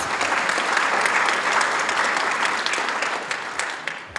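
An audience at a volunteer awards and recognition event gives a long, sustained round of applause, many hands clapping densely before it thins and fades toward the end.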